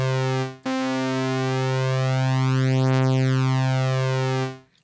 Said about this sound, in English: That kind of washing sound is called a unison detune.